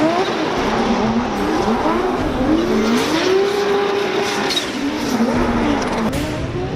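A Formula Drift race car at a Dallas, Texas event in 2019 accelerates through a turn, its engine note rising and falling loudly under steady throttle with tire noise, heard continuously and close.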